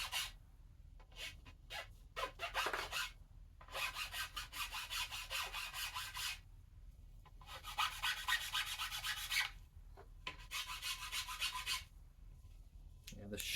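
Rasp filing across a yew wood bow while cutting nocks, a coarse scraping rasp in repeated bursts of strokes separated by short pauses, close and fairly loud.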